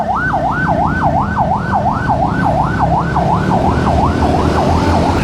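A loud, close ambulance siren wailing, rising and falling steadily in a fast repeating cycle, over the low rumble of road traffic in Surabaya, Java.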